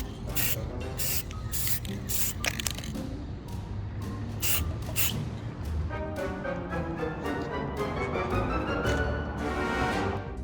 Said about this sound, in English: there's nothing that a little bit of spray paint can't fix